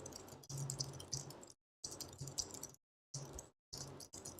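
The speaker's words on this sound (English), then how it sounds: "I'm just smashing my keyboard." Typing on a computer keyboard being struck hard, close and faint, coming in short bursts of quick clicking separated by silent gaps.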